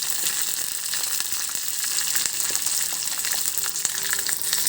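Small lentils such as urad dal and chana dal with green chilies frying in hot oil for a tempering, giving a dense, continuous bright crackling sizzle close up with scattered sharper pops.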